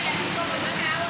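A waterfall pours into a deep swimming hole as a steady, dense rush of falling water, loud and continuous and close by, with no voices over it.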